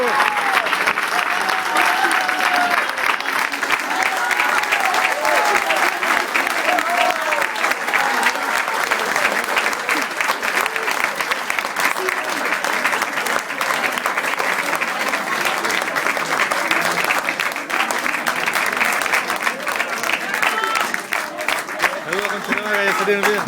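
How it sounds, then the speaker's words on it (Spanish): Audience at a political rally in Peñalolén clapping in sustained, dense applause that stays loud and even for the whole stretch, with crowd voices mixed in. "Brindemos otro gran aplauso"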